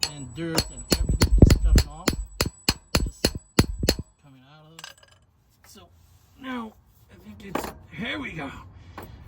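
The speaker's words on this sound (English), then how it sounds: "with this small hammer I was knocking here" About a dozen sharp metallic knocks from a small hammer knocking rust off a 2005 Dodge Dakota 4.7 V8 4x4, in quick succession, loud and close, then a pause and talk with faint clinks underneath.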